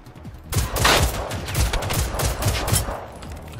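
Rapid gunfire from the video game Generation Zero, a burst of repeated close shots with sharp transients starting abruptly and continuing steadily, loud and dense with no talk over it.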